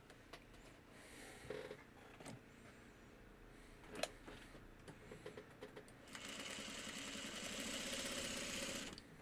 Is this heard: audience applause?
no